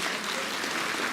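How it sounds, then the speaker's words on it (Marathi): An audience at a public awareness meeting in Sinnar taluka claps together in a short, dense burst of applause, steady and fairly faint. "जोरात टाळ्या वाजवा."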